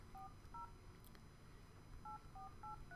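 Telephone keypad dialing tones, two short bursts of electronic beeps separated by a pause, heard clearly over a faint background hum with no talking.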